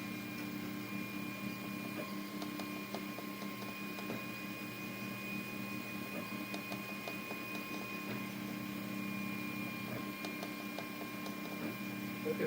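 A 3D printer prints a nut for a new filament holder, its steady stepper-motor whine and faint rhythmic ticks running continuously at low volume with no one speaking.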